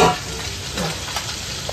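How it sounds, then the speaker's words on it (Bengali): Small fish fry in hot oil with a steady, close sizzle that crackles continuously, stirred now and then, with no talk over it. "মাছগুলোকে আমি একটু কুড়মুড়ে করে ভেজে নেব"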